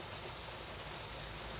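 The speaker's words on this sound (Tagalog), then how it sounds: "ulan na talaga, hindi na ambon." Heavy rain pours down outdoors under a dark sky, a dense continuous hiss of falling water, faint and steady with no voices.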